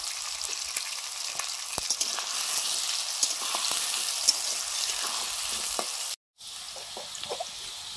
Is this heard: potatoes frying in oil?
yes